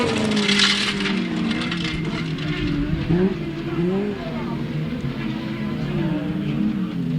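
A grasstrack sidecar motorcycle races with the throttle wound on, its engine roaring loud and wavering in pitch as it passes, with a crackling burst early on.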